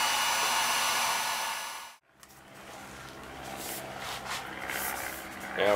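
A heat gun blows hot air along a length of PVC pipe being shaped into a sword scabbard, a loud, steady whooshing that cuts off abruptly, leaving quieter handling noises.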